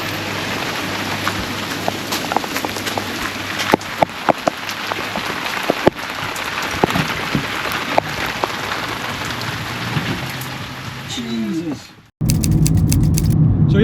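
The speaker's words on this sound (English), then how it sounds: "it is raining" Steady rain pattering on surfaces outdoors at a paramotor flying site, a dense hiss with scattered sharper drops and clicks, ending abruptly in a louder, different noise near the end.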